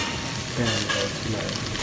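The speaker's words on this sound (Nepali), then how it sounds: "चट्ट एकछिन फ्राई गरिदिउँ" Goat trotters frying and being stirred in a pan, a steady close sizzle with scraping stir strokes running through the whole short stretch.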